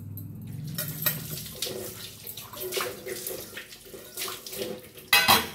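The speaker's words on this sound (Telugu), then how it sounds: "బోర్లు ఎప్పుడు శుభ్రంగా తోముకుంటాను" Dishes being scrubbed and washed with soap and water at a sink: steady running water with soft scraping and clinks of utensils, ending in a louder clatter near the close.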